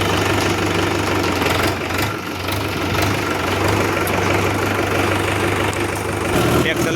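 Swaraj 841 XM tractor engine idling on a farm: a steady, loud, low diesel chug with a continuous knocking throb, holding evenly throughout with slight dips, and no clear talk over it.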